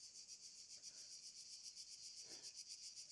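Crickets chirp steadily on a steep, brushy mountain summit near Medjugorje, a continuous high pulsing trill with no talking.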